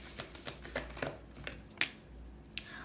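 Oracle cards shuffled by hand for a tarot reading: a series of soft, irregular papery flicks and taps, quiet and close, with no voices.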